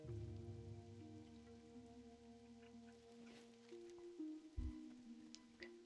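Rain falling in Hillsbrad in World of Warcraft Classic, a faint steady patter under low game ambience, with a few soft thumps and clicks scattered through.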